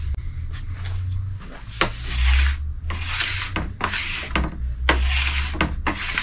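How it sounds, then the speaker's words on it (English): A plastic scraper pulls excess wax off a snowboard base in a series of rhythmic, close rasping strokes, about one every second, with no talk. "I'm just getting a little bit of wax off"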